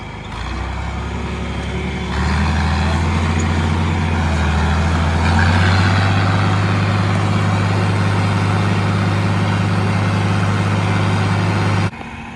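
A John Deere 4020 tractor drones steadily while planting beans, its loud low engine note rising in pitch as it pulls harder, then dropping slightly just before the end.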